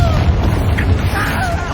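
Confringo blasting spell exploding in Hogwarts Legacy, a continuous loud low rumbling boom with debris crackle, close and sustained.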